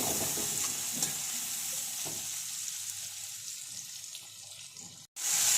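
Spice paste with onion and tomato being fried and stirred in a pan, giving a steady close sizzle with scraping stirs over about five seconds before a sudden brief cut-off.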